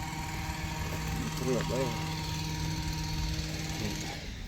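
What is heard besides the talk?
bounce house blower running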